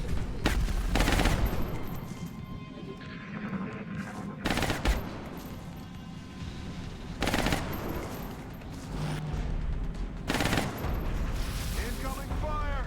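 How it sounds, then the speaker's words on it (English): Bursts of gunfire in XCOM: Enemy Unknown, several loud rattling volleys separated by quieter stretches with a voice talking underneath. "Incoming fire."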